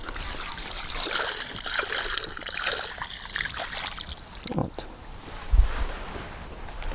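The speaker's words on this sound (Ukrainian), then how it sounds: "я вилию тут декілька відер води" Water pours from buckets onto soil around a freshly planted sapling, a steady splashing gush with gurgling and trickling outdoors, close and fairly loud, with a dull thump near the end.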